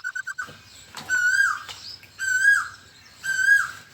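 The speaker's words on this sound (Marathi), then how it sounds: "कोकिळ्याची कुकू तर पहाटेपासून सुरू होते तर दिवसभर असते." A koel calls near a farmyard, giving three clear, rising whistled calls spaced about a second apart after a few short chirps, with no other sound around them.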